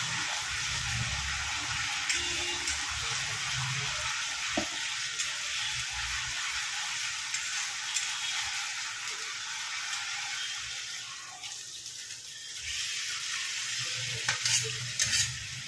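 Spiced meat (namkin gosht) being stir-fried in a pan, a continuous close sizzle with intermittent scraping stirs and a brief quieter patch midway, no talk.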